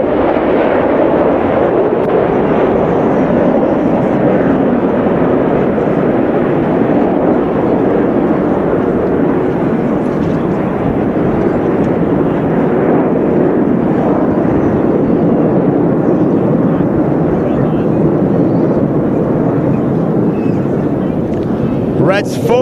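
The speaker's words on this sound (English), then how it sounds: "the aircraft will leave the runway approximately 170 kilometers an hour" Red Arrows display team jets roaring down the runway on takeoff at an air show, a loud sustained broadband jet rumble filling the whole stretch with steady intensity, likely with commentary over it.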